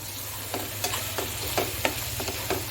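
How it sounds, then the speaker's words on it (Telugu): Tomatoes fry in a pan with onions already browned, giving a constant close sizzle broken by several sharp scraping taps from stirring. "టమాటా కూడా బాగా వేగాలి"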